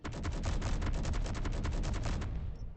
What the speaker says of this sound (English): you can see how this little turret operates. Yes, it can take down targets.